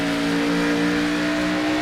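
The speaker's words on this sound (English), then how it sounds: "Watch the RPMs and listen to the revs of the engine." A NASCAR race car engine at Phoenix Raceway revving loudly and steadily, a sustained high mechanical whine with shifting pitch, close and with no talking.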